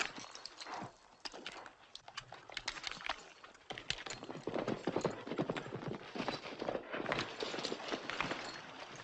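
Rapid hoofbeats clip-clop from several horses moving at a brisk pace, dense and fairly close, with no talking over them.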